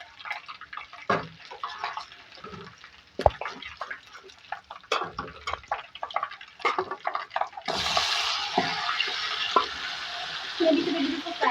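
Cooked beef added to a karahi with masala, metal clatters and stirring scrapes giving way to a steady sizzling fry as the meat hits the pan.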